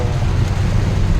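Heavy downpour on a road with stopped traffic, a dense, loud, steady roar of rain with deep low rumble, no voices.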